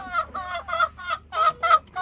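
Chickens cluck in a rhythmic series of short, bright calls, several bursts in close succession at moderate loudness, with no talk over them.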